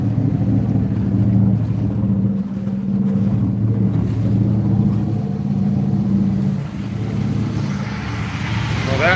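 A boat engine runs at a steady idle while pumping cooling water, a continuous low droning hum that holds level throughout with slight fluctuations.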